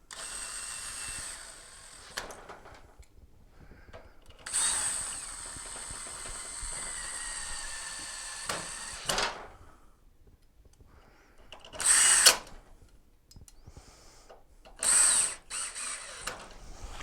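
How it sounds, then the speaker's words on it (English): Screwdriver work during the rebuild of a Project Elite Traveller, with several separate bursts of whirring, ratcheting mechanical sound between quiet gaps, close and moderately loud. "Get my screwdriver."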